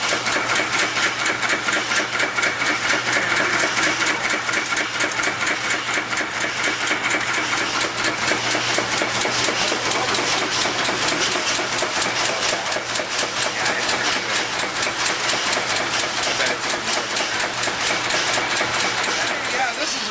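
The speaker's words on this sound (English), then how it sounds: "This lead was extruded on this machine right next to it, and then it's fed into the cutter." A cutter machine in a bullet factory chops extruded lead wire with a fast, steady mechanical chatter over a constant motor hum, loud and close, running continuously for twenty seconds.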